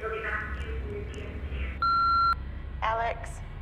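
A single steady electronic tone from a telephone answering machine, sounding clearly for about half a second between stretches of talk, with speech resuming right after it.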